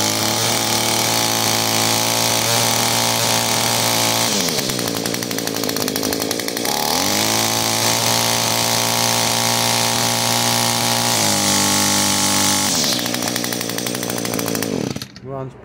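A small Echo SRM-210 string trimmer engine, freshly fitted with a new carburetor kit, runs loud and steady close by for about fifteen seconds, with throttle rising and falling a few times before it cuts off at the end.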